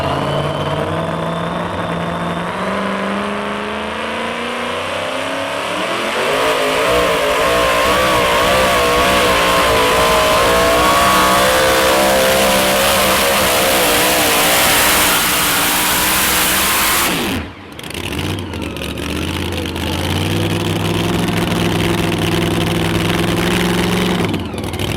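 A pulling truck's engine roars at a truck and tractor pull, loud and close. The sustained revving climbs in pitch, cuts out for a moment near the end, then picks up again.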